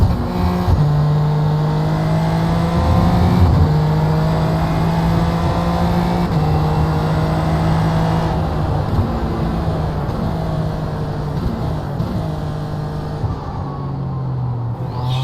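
SF Light race car in the iRacing simulator, its engine droning steadily and loudly throughout with rising and falling revs through gear changes, no voices over it.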